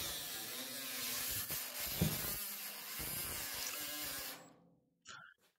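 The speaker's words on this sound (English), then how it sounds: "that's just a 3M brand of uh, sanding disc" A loud, steady abrasive grinding hum of a 24-grit sanding disc on car body metal runs for several seconds, then winds down and stops, followed by a couple of faint clicks.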